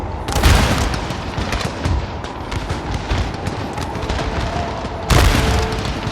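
Massed musket volleys in a Napoleonic war strategy game, with rolling crackles of gunfire booming and rumbling continuously, plus two heavier blasts standing out, under a steady din of battle.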